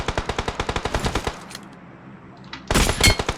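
Automatic gunfire in the video game PUBG Mobile: a rapid burst of about fifteen close, sharp shots, a short quiet gap with a couple of faint pops, then another loud burst at the end. No talking.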